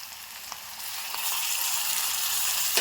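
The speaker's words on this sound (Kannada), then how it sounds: "ಈಗ ನೋಡ್ರಿ ಉಳ್ಳಾಗಡ್ಡಿ ಅಂತ ಒಂದು ಸ್ವಲ್ಪ ಫ್ರೈ ಇದಾವೆ" Chopped onions sizzle steadily in a hot pan as they fry toward golden brown, a close, continuous hiss that grows slightly louder partway through, with a few small clicks and no voices.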